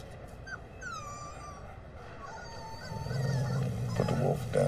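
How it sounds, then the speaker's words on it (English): A wolf pup whimpers in a TV commercial, a few thin rising whines up close, followed by rustling and movement as the sound grows busier. "Not a puppy. A wolf."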